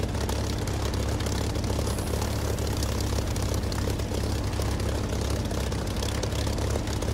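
A Spitfire's piston aircraft engine runs in the DCS flight simulator, a loud, steady, continuous propeller drone with deep low rumble that holds level throughout, with no voices.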